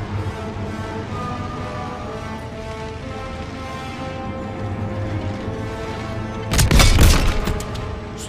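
A single heavy tank cannon shot booms out in Call of Duty WW2 near the end, loud and close, after a long stretch of steady engine rumble and battle noise.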